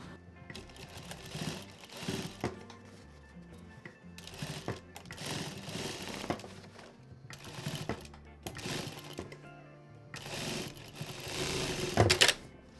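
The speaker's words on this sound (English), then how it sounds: "I'll place the strap here and sew in the same way as we did for the other side." A sewing machine stitches a denim handbag strap in several bursts of rapid mechanical chatter, separated by short pauses, close and fairly loud with no voices.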